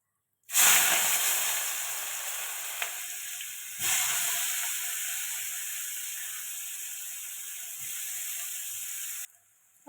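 Onions dropped into hot oil with bay leaf and whole cumin, a loud, steady hissing sizzle that bursts in suddenly, surges again partway through and runs on continuously before cutting off.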